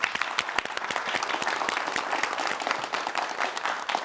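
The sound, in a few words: studio audience applause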